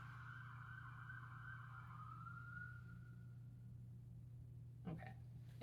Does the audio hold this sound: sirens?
yes